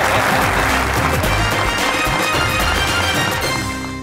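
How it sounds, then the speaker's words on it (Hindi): A studio audience at a comedy talk show breaks into loud, sustained applause, dense clapping that fills the room and starts to fade near the end. "बजाओ ताली"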